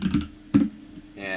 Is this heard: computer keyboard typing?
yes